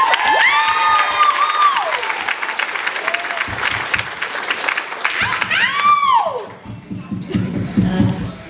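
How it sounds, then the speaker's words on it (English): Audience applause and cheering for a woman performing a comic Lord of the Rings rap, a dense wash of clapping with scattered whoops that carries on steadily for several seconds before easing slightly near the end. "Give her a big round of applause."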